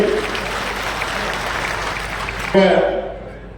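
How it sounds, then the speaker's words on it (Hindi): Audience applause at a Sant Shiromani Dhanna Bhagat birth anniversary ceremony in Bhuran, Safidon, a steady wash of clapping that swells briefly louder near the end while a voice carries on over it. "तालियां बजा के स्वागत करेंगे सभी"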